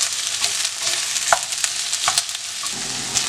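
Onion cooking in a pan until soft and translucent, giving a continuous bright sizzle close by with a few sharp spatula scrapes.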